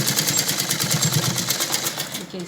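A sewing machine stitches a baby bloomer with a fast, even, close mechanical whirring pulse that slows and stops near the end.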